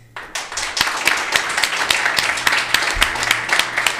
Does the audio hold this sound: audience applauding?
yes